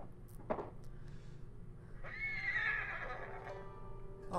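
A horse neighs loudly in a long, shrill whinny, preceded by a short snort, over a low background rumble in Ghost of Tsushima.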